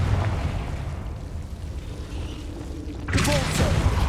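A Confringo fire spell blasts in Hogwarts Legacy on PlayStation, a sudden loud burst about three seconds in that rises out of a low, rumbling game ambience and then rings on.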